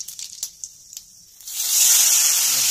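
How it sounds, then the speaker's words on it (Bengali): Cumin seeds tempering in hot oil in a kadai: after a quiet stretch with a few faint clicks, a sudden bright hiss swells and holds, close and fairly loud. "কড়াইটা ধুয়ে তেল দিলাম, তারপরে একটু জিরে ফোড়ন দিলাম,"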